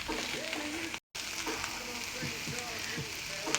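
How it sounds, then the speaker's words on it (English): Brussels sprouts saute in hot sausage grease, giving a steady, close crackling sizzle with faint stirring and a low murmur underneath. "I'm gonna give the Brussels sprouts a quick little saute just to soften them up some"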